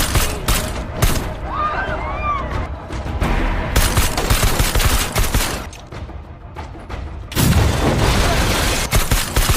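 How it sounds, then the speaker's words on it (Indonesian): A film shootout erupts in loud, rapid volleys of gunfire. Dense bursts alternate with brief lulls, and a heavy burst returns near the end. "Karena hal inilah akhirnya mereka berdua ketahuan oleh anak buah Amir Asif dan baku tembak pun tak bisa dihindarkan."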